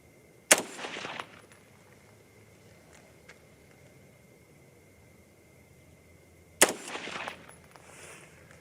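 Two sharp, loud rifle shots from a 224 Valkyrie or 6.8 SPC II at an outdoor target range, several seconds apart, each followed by a brief rolling echo over quiet background.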